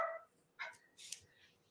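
A dog gives a few short, faint barks from a distance in a quiet indoor room, spaced irregularly across a brief stretch.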